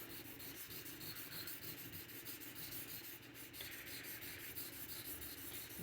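A blade being rubbed on a greenstone sharpening stone of roughly 1200 grit while knapping an Ohio River Jack clip point, giving a faint, steady, rhythmic scraping that continues throughout.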